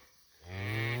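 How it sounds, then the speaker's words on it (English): A six-year-old cow bawls and moans during a cattle move, one long loud drawn-out low moo that swells after a brief quiet start and holds steady to the end. "She always does this on the cattle move. She just bawls and moans"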